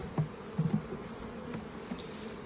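Honeybee swarm buzzing steadily while being transferred from a wooden nucleus box into a hive between partitions, a soft continuous drone with a few louder close passes of individual bees.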